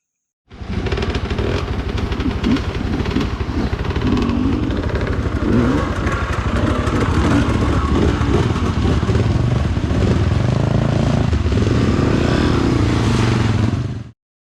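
An enduro motorbike on a hard enduro trail in Chiang Mai revs loudly and without a break, its engine rising and falling close by amid scraping and clattering.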